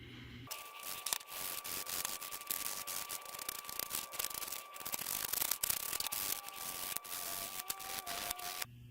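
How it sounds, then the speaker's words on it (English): Pen tubes for a bourbon barrel pen being scuffed with 80 grit sandpaper, a steady close rasping rub with quick back-and-forth strokes running throughout, no talking. "80 grit sandpaper, and I'm going to scuff them up in all directions, up and down, sideways, a little diagonal"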